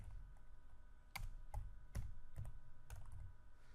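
Faint, close tapping of a computer keyboard while typing in Word 2013, scattered sharp key clicks in an irregular rhythm over a low background hum.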